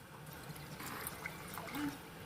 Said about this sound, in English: what you have to do first is put some juice, some broth inside of your jar